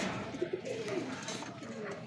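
A racing pigeon coos softly in a loft, a few low, throaty coos standing out faintly against a quiet background hum.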